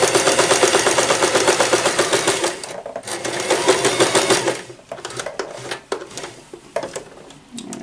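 A sewing machine stitches small reusable make-up face wipes, running in a steady fast burst for about three seconds, then continuing in shorter stop-start runs of stitching close by.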